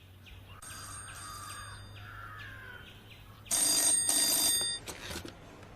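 Telephone rings at a Peerumedu sub jail office, a repeated electronic trilling ring in bursts over a low background hum, loudest near the end.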